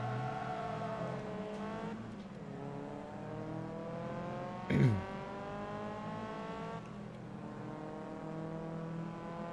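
Several Honda S2000 race cars in Forza Motorsport 2 accelerate together off the start line, with engines revving up through the gears in rising sweeps, a brief thump near the middle, and a voice talking over the steady racing roar.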